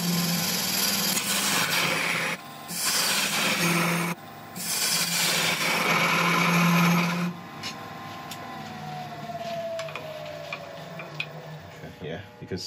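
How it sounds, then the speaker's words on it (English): Steady rasping of sandpaper against a spinning cherry log on a lathe, a continuous loud scratchy whir with brief pauses, a faint motor hum underneath. "I'm just going to quickly give a cursory sanding to the outside"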